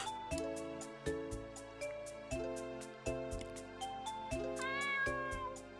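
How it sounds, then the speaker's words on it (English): A default cat meow from the video game Hololive Chronicles rises briefly near the end over looping, rhythmic in-game music with regular plucked beats. "Default cat sound."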